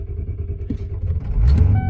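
A Ford 7.3 IDI diesel, warm after burnouts, cranks and rumbles heavily up close, then catches with a rising loud roar near the end.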